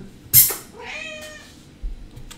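A cat gives a single close, clear meow with a drawn-out falling tone, preceded by a sharp noise burst and followed by a soft thump.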